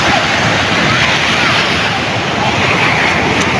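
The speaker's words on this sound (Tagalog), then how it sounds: "May alon din pala." Ocean waves wash in a continuous loud roar of surf, broadband and unbroken, with wind buffeting the microphone throughout.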